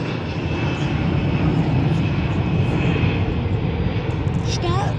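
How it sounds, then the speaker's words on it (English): A United Embraer jet airliner takes off at Durham airport, a steady, roaring engine rush at a moderate distance, with faint voices nearby. "It is going to take off. It's a United. Embraer again."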